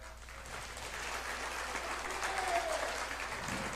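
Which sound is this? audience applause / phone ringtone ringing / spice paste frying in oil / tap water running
audience applause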